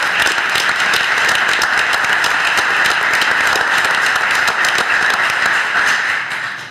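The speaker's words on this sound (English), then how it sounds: "Another round of applause for them." Sustained, loud applause for a student council at a city council meeting, an even wall of clapping from the chamber that fades out in the final second.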